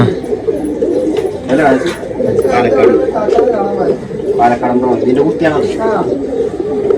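Pigeons coo repeatedly nearby in soft, throaty bursts, mixed with people talking over them throughout.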